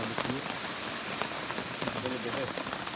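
Light night rain at a jungle campsite, a steady close patter of drops on a surface that fills the whole stretch, with faint voice-like sounds underneath.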